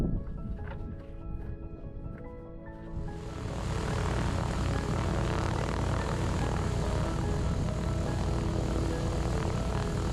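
A Britten-Norman Islander propeller aircraft on an airport apron, its engines rising into a loud, steady propeller drone that holds as it taxis away.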